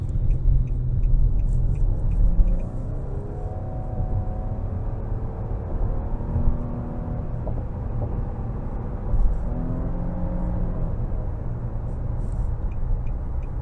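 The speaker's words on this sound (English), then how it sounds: "Give it a little bit of throttle here." A 2023 Nissan Maxima Platinum with a 3.5 V6 and CVT accelerating, heard from inside the cabin as a steady, low engine drone that rises smoothly without shift breaks, moderately loud and continuous, with no talk.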